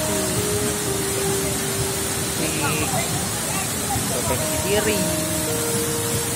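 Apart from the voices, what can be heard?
waterfall rushing water, Davesta Curup waterfall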